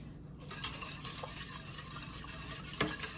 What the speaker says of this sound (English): All right, so we stir all that together